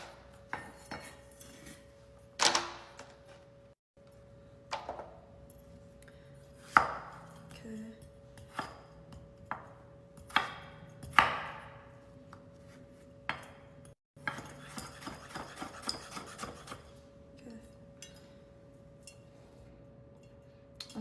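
Food being chopped into small dice on a board, with scattered knife strikes at irregular intervals and occasional brief scraping, close and fairly quiet, with no talking.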